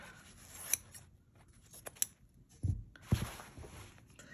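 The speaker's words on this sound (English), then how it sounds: "I'm going to cut it roughly over here" Scissors cut fabric for a wire armature: a few quiet, close snips and rustles spaced across the moment, with a couple of sharper cutting bursts near the end.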